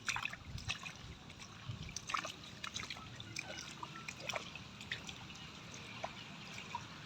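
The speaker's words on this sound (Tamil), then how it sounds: "இந்த தண்ணி பாயுது போய் அந்த தக்காளிக்கு" Irrigation water flows toward tomato plants in a village field, a soft continuous trickle with small drips and splashes, fairly close and steady throughout, with no talk over it.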